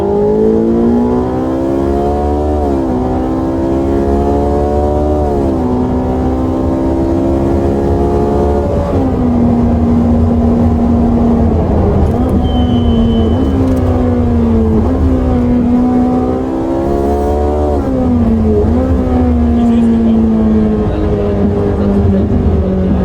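Ferrari 458 or 488 Pista engine on a race circuit, revving loud and close in repeated rising pulls with gear changes, a continuous high-pitched howl that climbs and drops throughout.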